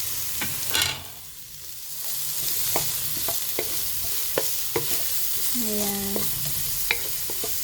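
Onions and ginger frying in a pan while being stirred, a steady close sizzle with scattered spatula scrapes and taps, and a brief voice partway through.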